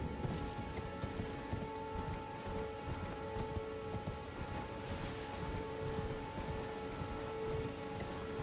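Horse hooves clip-clop steadily in Elden Ring, a continuous rhythmic patter under rainlike noise and a steady tonal hum of game ambience.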